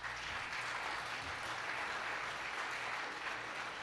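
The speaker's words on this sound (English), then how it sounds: "Give yourselves a round of applause." Audience applause fills a veterans' community event at an art center, a dense, even wash of clapping that holds steady and fairly faint for the whole stretch.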